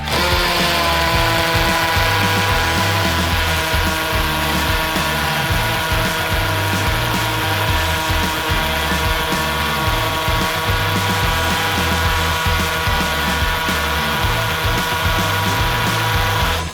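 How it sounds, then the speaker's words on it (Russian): A power drill bores into brick, a steady loud whirring grind with a dense, unbroken mechanical drone running the whole time, close up with no talking. "Кирпич будем сверлить, потому что он более однородный"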